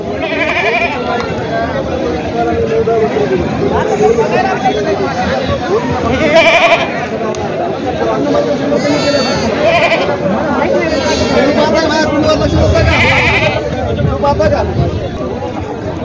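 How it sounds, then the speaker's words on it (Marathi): Goats at the Khandoba goat market in Parbhani, Maharashtra bleat again and again through a dense crowd babble, some calls near and loud, others farther off, with someone talking throughout. "परभणी खंडोबा शेळी बाजारामध्ये खूप मोठ्या प्रमाणात बकरी आलेले आहेत."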